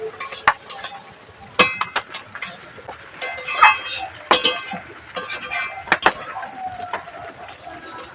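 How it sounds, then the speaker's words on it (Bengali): Semolina is stirred in a pan for jhal suji as small amounts of water go in, giving irregular scraping and clinking strokes with brief sizzle bursts, close and fairly clear, without speech. "অল্প অল্প করে জল দেবো আর নাড়বো।"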